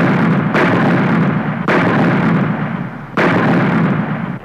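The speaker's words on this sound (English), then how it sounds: "These Southern troops formed an artillery line on this ridge and shelled the Union force." Artillery shelling along a ridge line in a Civil War battle at Gettysburg, heard as three heavy booming blasts spaced roughly a second apart, loud and close, each followed by a rumbling decay.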